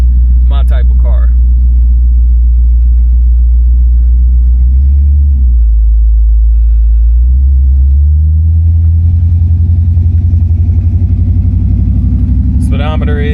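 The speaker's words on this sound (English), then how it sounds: "I just love the engine sound, and these things just float too." A 1969 Oldsmobile 98 on the road, its engine giving a loud, deep, steady rumble that shifts pitch briefly mid-drive, with a couple of short higher noises at the start and end.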